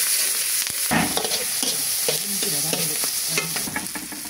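Chopped onions fry and get stirred in a hot pan in a village kitchen while a rooster roast is prepared, a steady close sizzle broken by repeated scraping strokes of the spoon.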